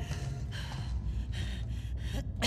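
A character in The Last of Us Part II gasps and wheezes for breath while inhaling spores, several harsh ragged breaths in a row, close and loud over a low game rumble.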